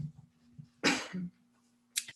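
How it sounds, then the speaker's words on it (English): A single close, sharp cough bursts out, followed by a short throaty tail and a quieter catch of breath, with faint low vocal sounds before it. "Excuse me, I'm going to cough."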